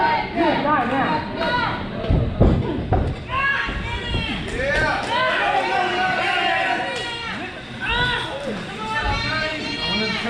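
A wrestling crowd at an independent show murmurs and reacts, with chatter and scattered shouts throughout and a commentator's voice talking over it.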